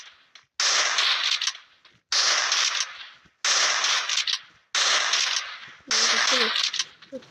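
Gunfire in the Free Fire video game, loud bursts of rapid shots in five separate volleys with short pauses between them.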